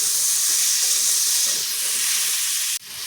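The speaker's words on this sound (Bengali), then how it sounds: "আলুটা এটা একটু হালকা করে ভাজা করে নেব" Potatoes fry lightly in oil left over from frying fish, a steady loud sizzling hiss that holds evenly for nearly three seconds, then cuts off abruptly and resumes more faintly, with no talk.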